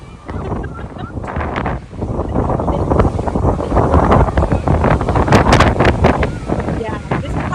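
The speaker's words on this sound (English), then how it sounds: "this is how windy it can get." Strong wind roars and buffets the microphone steadily throughout, with birds calling and a voice occasionally breaking through the gusts.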